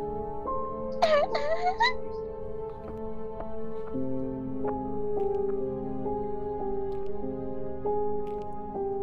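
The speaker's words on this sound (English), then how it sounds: "I can hear the sound of a crying child in the background." In the game Phasmophobia, a brief eerie wailing cry of a ghost child sobbing rises over a soft sustained musical backdrop, then fades as gentle chords continue.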